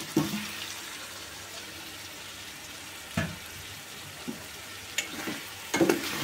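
Onions and tomatoes stirred in a sizzling cooking pan, a steady hiss of frying broken by a few short scrapes and knocks of the spoon, close, with no talk.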